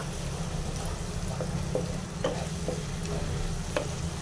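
Chicken with a dry-roasted ground spice masala is stir-fried in a pan, giving a steady close sizzle with scattered scraping stirs of the utensil throughout, and no talking.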